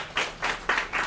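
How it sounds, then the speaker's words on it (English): Short bursts of audience clapping at a live discussion salon in Hong Kong, rising and falling in four quick waves, fairly close. "So may I invite a big round of applause for all of us here."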